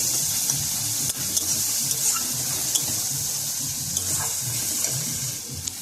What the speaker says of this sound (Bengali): আদা বাটা দিয়ে এবার সব কিছু মিক্স করে রান্না।